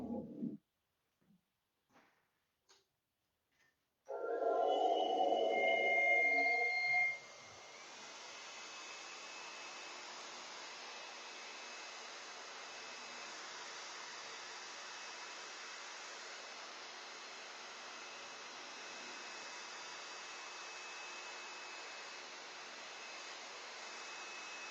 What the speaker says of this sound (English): for the purposes of television, we're gonna hit it with a blow dryer